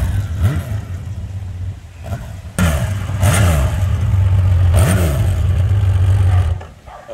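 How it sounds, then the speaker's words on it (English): Harley-Davidson motorcycles rumble close by, their engines blipped in several short throttle revs that rise and fall over a low, loping idle. "A couple of my friends have showed up on Harleys"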